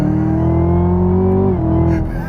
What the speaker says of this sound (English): It really sounds like an old-time muscle car.